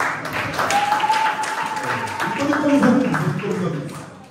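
Church congregation clapping and applauding, a moderate wash of claps mixed with voices and background chatter.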